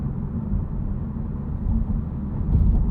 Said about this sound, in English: You get complaints from these tires because they are just kind of loud and boomy in general